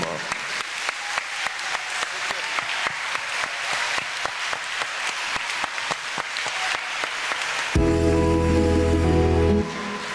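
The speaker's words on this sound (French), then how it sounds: "Je vous demande de l'applaudir fortement." A congregation at a school Mass of the Holy Spirit applauds a priest with rhythmic clapping in steady unison beats for most of the stretch, before a loud sustained burst of tonal music or feedback briefly takes over near the end.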